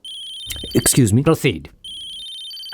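A phone ringtone for an incoming call chimes steadily, stops while someone speaks briefly, then resumes ringing on its own.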